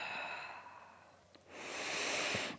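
Steady breathing in and out during a shoulder-opening exercise on a foam roller, a soft airy exhale followed by a brief pause and then a longer, louder breath, close and alone.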